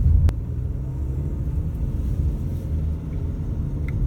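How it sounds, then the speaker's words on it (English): A Haval H2 SUV with a 1.5-litre turbo engine cruises on the road, heard from inside as a steady low engine and road rumble with one brief thump near the start. "So far, this car drives quite decently. It's quiet, the NVH is good."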